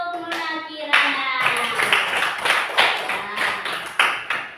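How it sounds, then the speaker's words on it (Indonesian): A small group of children in a classroom claps for a classmate, a close, loose flurry of hand claps in uneven bursts following a fading chime-like tone. "tepuk tangan untuk Nona Kirana"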